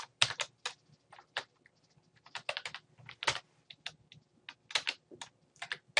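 Keys clatter on a computer keyboard while an SQL statement is typed, a steady run of close, crisp clicks in short bursts with no talking.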